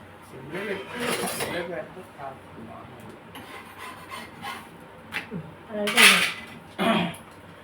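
A metal pot is pulled out and handled in a home kitchen, giving scraping rubs and a few sharp clanks that come in short bursts while a person talks nearby.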